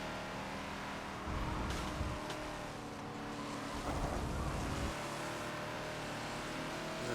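A Ferrari race car drives at Sonoma in the Forza racing game, its engine a steady hum with two brief rises in revving, moderately quiet throughout.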